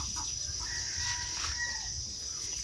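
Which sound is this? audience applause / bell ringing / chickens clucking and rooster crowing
chickens clucking and rooster crowing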